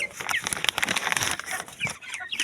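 Backyard chickens, a flock about 45 days old, cluck and chatter continuously and close by, with overlapping calls.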